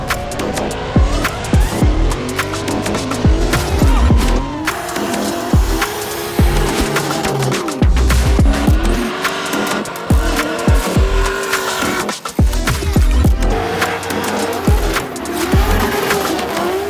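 A pro drift car is driven hard at the US Drift Circuit Pro-Am at Sebring, its engine loud and sustained, tires squealing through long slides, with bursts of heavy low rumble and no talking.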